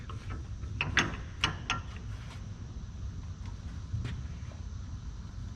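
A ratchet clicks in short, quick runs while tightening bolts on a 1970 Dodge D100 pickup, close and crisp over a low, steady rumble of background noise, with a few isolated clicks toward the end.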